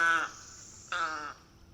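Two harsh, nasal croaking calls from a tricolored heron, each about a quarter-second long and separated by a short gap, moderately close and alone.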